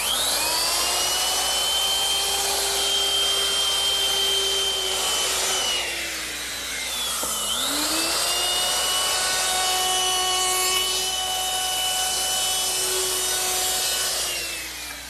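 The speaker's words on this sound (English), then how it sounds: "I want to round over all the edges using my router with a 1/4-inch rounding over bit" A router fitted with a 1/4-inch round-over bit shapes the edges of wood slats, a loud, high whine that dips briefly in pitch as it bites, then steadies and carries on for the rest of the stretch.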